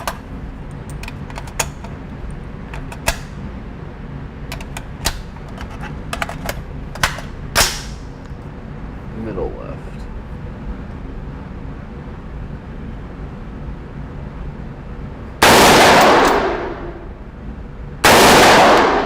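AR-15 rifle fitted with a Sig Sauer Romeo 4H red dot and Primary Arms 3X magnifier: faint clicks and handling noises, then two loud, sharp gunshot blasts near the end, each ringing out briefly.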